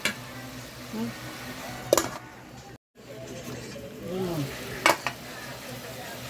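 Crab fries in butter in a pan, giving a steady soft sizzle with a couple of sharp clicks and stirring scrapes. There is a brief dropout partway through, and a faint voice talks at times.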